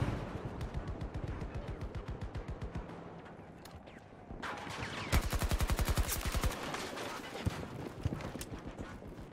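Rapid automatic gunfire from the video game Battlefield 2042 crackles in fast bursts, with a denser, louder volley midway, moderately distant and mixed with game ambience.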